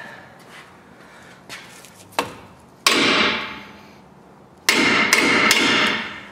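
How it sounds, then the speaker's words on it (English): Hammer blows on a Ford F-series front strut spring assembly: a couple of light taps, then two loud, ringing metallic strikes, each decaying slowly, close by with no talking. "then we can hammer it from the other side like we did before"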